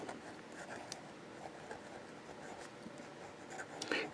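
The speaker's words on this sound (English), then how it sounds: "And we'll try reverse writing." A Fountain Pen Revolution Tanoshii fountain pen writing backward on paper gives a soft, steady scratching that runs continuously, faint and close, with a few slightly sharper strokes near the end.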